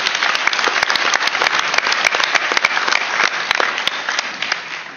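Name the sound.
applause for guests at a Senate hearing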